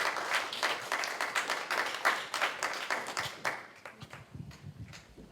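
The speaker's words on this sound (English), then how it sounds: "let's give Leah a big round of applause and welcome her to the stage" An audience applauds to welcome a speaker onto a stage, with dense clapping at first that thins to scattered claps before fading out.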